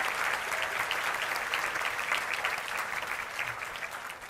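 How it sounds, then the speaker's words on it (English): Audience applause at a creativity forum honoring educators, a dense, steady wash of many hands clapping at even loudness throughout, easing slightly toward the end with no voices over it. "Let's give them a round of applause."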